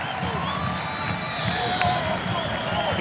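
A stadium crowd at a U.S. Open Cup soccer match between the New York Red Bulls and New York Cosmos cheers and applauds a player being substituted off, a broad, steady roar with scattered shouts heard at a distance.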